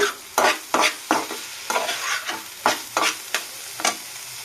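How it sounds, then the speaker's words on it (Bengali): Spices being sautéed in a pan for a fish chop filling: a close, ongoing sizzle broken by about a dozen sharp scraping stirs at an uneven rhythm. "এই মশলাটাই দেবো শুধু দিয়ে আবারও কষিয়ে নেব"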